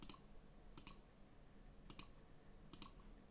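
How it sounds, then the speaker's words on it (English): A calculator keypad being pressed while numbers are entered, four crisp, quiet clicks spaced evenly at close range, with no talk. "So if we type that straight into our calculator"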